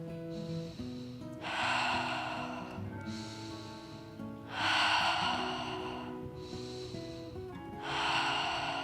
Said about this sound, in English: we're speeding up our breath just a little bit and still moving